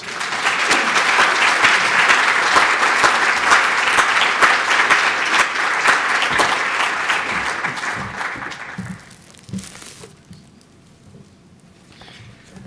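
A lecture audience claps warmly to welcome speaker Raimond Gaita, dense sustained applause for about nine seconds that then thins out and fades into the quiet of the hall.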